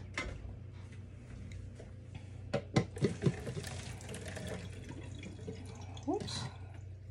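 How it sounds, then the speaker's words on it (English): Water from cooked noodles for pad thai drains into a sink with splashing, trickling and dripping, scattered clanks and taps from the pot or strainer, and low room hum underneath. "I'm just draining off the noodles"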